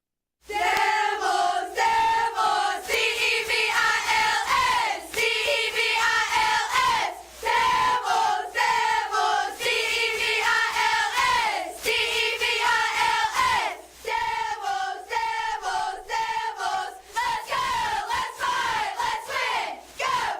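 A cheer squad at a high school football game chants and yells in unison, loud and continuous, with rhythmic shouted phrases and brief breaks between chants.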